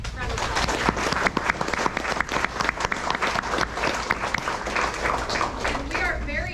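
Audience applause at a school induction ceremony for 7th and 8th grade honor society students, a steady roomful of clapping with crisp individual claps standing out, with a low hum underneath throughout.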